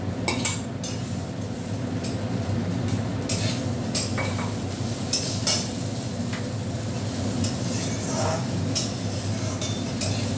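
Fried eggplant and neem leaves are stirred together in a pan, with repeated metal utensil scrapes and clinks over a soft, continuous sizzle.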